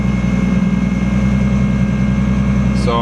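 A steady, low rumbling Nissan RB engine idling close by, constant and even throughout with no revving.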